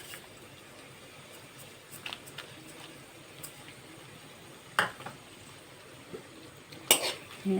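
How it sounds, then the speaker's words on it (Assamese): Onions and chana dal being stirred in a pan, with soft scraping and a low sizzle throughout, broken by a few sharper clinks of the spoon against the metal toward the end. "পিঁয়াজখিনি দি এতিয়া অলপ লৰাই দিম।"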